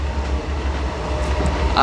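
Train running from Amritsar toward the Attari border in Punjab, a steady low rumble of the rolling cars heard from onboard, continuous and moderately loud, with a brief burst of voice or noise near the end.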